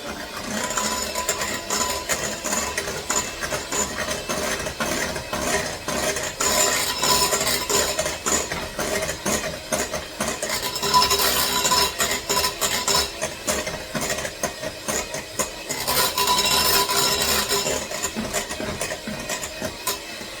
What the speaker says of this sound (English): Now I whisk them together.